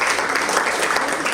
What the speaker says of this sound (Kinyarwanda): mukomere amashyi